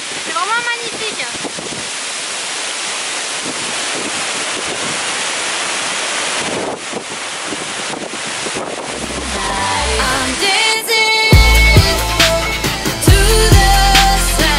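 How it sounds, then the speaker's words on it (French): Rushing water at a waterfall in Bali, falling and splashing like steady rain, a dense continuous wash of spray close by, with a brief shift to a harsher tonal sound near the end. "on a l'impression qu'il pleut avec des éclaboussures d'eau"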